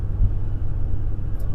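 A car rolling along a road, heard from inside as a steady, loud low rumble of engine and tire noise with no talk.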